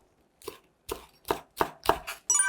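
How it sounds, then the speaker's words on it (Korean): A knife slices bell pepper into thin strips on a cutting board, six crisp separate chops in an uneven rhythm, close and clear with no talk, in a cooking class for a salmon ssamjang dish. "파프리카도 채 썰어 보도록 할게요"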